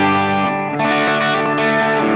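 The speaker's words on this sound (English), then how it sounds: "the reverb is a spring reverb" Guitar through a Line 6 Helix with spring reverb, a sustained distorted chord ringing with a dripping, splashy reverb tail, loud and close, no talk.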